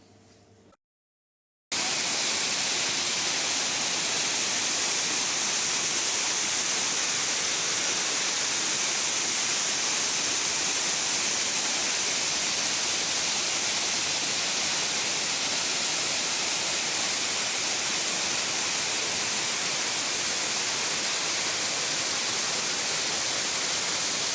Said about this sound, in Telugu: ఈ జలపాతం చాలా అద్భుతంగా ఉంటుంది